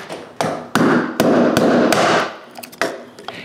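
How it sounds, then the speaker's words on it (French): A chisel struck with a mallet cuts out wood chips between dovetails in mahogany, giving sharp, close, loud taps at an uneven rhythm, each followed by a brief ringing decay. "j'enlève encore des éclats de bois et je coupe encore plus profondément"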